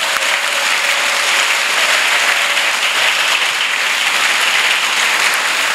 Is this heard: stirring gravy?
no